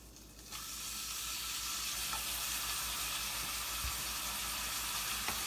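Bacon frying in butter in a pan gives a steady, close, bright sizzle that starts abruptly and holds evenly, with occasional soft scrapes and clinks of a utensil.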